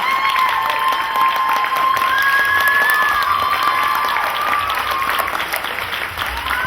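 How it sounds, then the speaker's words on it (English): A crowd at a Dragon Con Ghost Hunters panel claps loudly and cheers with whistles and shouts, a dense, sustained ovation that eases slightly toward the end. "You deserve the applause."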